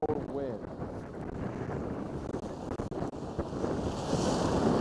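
Strong 40 mph wind buffets the microphone at a snowy ski mountain summit on a 5-degree day, a continuous rumbling roar with gusty surges and brief dips, and a voice talking faintly under it.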